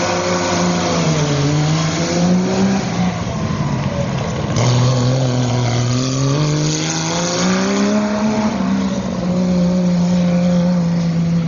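A Milano race car sets off on a hill climb, its mid-pitched engine revving hard through several rising gear pulls, loud and close, with a brief dip between shifts and no voices.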